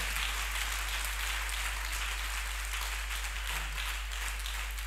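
Applause from a church congregation at a Sunday service, a steady, diffuse wash of clapping filling the room throughout, with no clear individual claps standing out.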